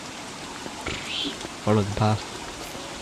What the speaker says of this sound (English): think it's this rain